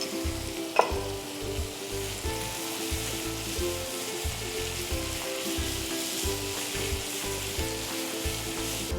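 Onions frying with a little salt in a pan, a continuous close sizzle broken by a steady rhythm of stirring strokes and one sharp clink near the start.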